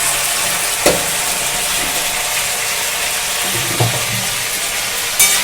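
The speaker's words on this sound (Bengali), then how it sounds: "আবার একটু কষে নেব," Potato curry in the style served with kachori sautés in a pan with Kashmiri chili and chili powder, giving a continuous sizzle broken by three sharp clinks of a spatula against the pan.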